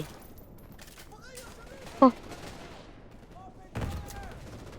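Gunfire in Call of Duty Modern Warfare Remastered comes as scattered sharp shots, one especially loud crack near the middle, with someone talking over the action.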